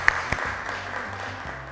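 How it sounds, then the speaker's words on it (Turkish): A studio audience on a Turkish quiz show gives a short burst of applause, a brief, fairly faint patter of claps over a low background hum. "Alkışlıyoruz arkadaşlar"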